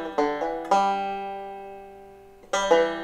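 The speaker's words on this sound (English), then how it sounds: "The first part is a standard Scruggs intro." Banjo playing a Scruggs-style intro to a song: bright plucked notes in quick bursts with hammer-ons, a long ringing chord sustaining in the middle, then a fresh burst of picking, played solo and close.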